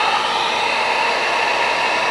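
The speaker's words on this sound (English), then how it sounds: "heat gun should pretty much eat this stuff alive." A heat gun blasts a steady, loud rushing hiss of hot air onto plastic while building a creepy snowman gift tower, an unbroken roar with no voices.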